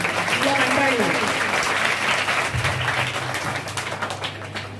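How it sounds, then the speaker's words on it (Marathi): Applause from villagers gathered at a village celebration, a sustained bed of clapping that carries on for several seconds while a voice and a low hum sound over it. "तुमचं विशेष या ठिकाणी कौतुकाने टाळ्या झाल्या पाहिजे"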